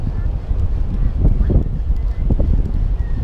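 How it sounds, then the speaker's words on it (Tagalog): Strong seashore wind roars and buffets the microphone in a constant rumbling low gust, with brief louder surges. "Lakas ng hangin talaga"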